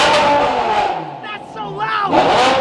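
A supercar's 5.2-litre engine revs hard and loud, roaring up and swelling near the end while a person's voice talks over the engine noise.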